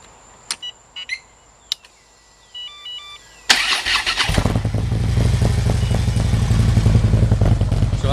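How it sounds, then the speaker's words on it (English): A warmed-up motorcycle engine cranks and fires up after a few quiet clicks, then settles into a loud, steady, rumbling idle. "So let's turn it on and"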